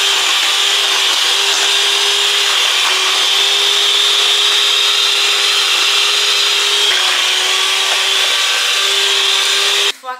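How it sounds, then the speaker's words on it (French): An electric hand mixer whirs steadily through Speculoos cheesecake batter, a continuous motor drone with slight shifts in pitch, close and loud, running alone until it cuts off at the very end. "tu as juste à mélanger le tout avec ton batteur"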